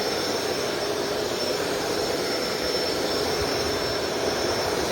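A Shark Rotator DuoClean Powered Lift Away vacuum running with its brushroll spinning: a steady, even, loud motor whir with a high whine, unbroken throughout and without speech.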